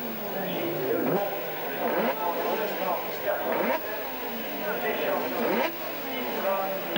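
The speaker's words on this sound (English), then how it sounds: "Stroyer away well, and so too were Webster and Billand as the field charged downhill" Racing sidecar motorcycles at the 1988 FIM Sidecar World Championship charge downhill at the start, engines revving and roaring in overlapping waves with repeated gear-change swells, under steady commentary.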